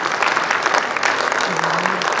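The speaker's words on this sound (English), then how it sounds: "With a round of applause, I thank you once again." An audience at an inauguration event on a college campus applauds steadily, a dense wash of clapping throughout, with a brief tonal voice or whistle rising faintly beneath it near the end.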